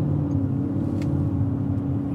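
A Porsche Cayenne's cold engine hums at low revs as it pulls away gently, a steady, close, deep rumble with no break.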